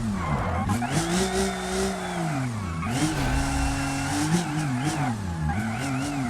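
A car drifting in a BeamNG driving game, engine wailing and rising and falling while the tires squeal in long skids through the slide, loud and close.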